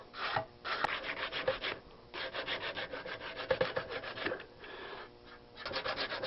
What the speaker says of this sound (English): We just sand this off.